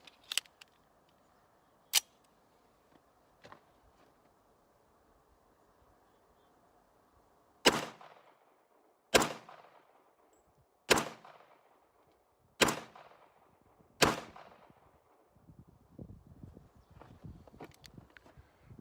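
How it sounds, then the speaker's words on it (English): Five sharp pistol gunshots ring out alone in a quick irregular series, each with a short decaying echo, preceded by a few faint clicks and small handling knocks. "Five shots, locks it back just fine."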